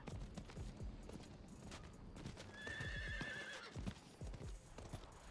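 Steady clip-clop of a ridden horse's hooves in a video game, joined partway through by a bright whinny, all fairly loud and close with no talking.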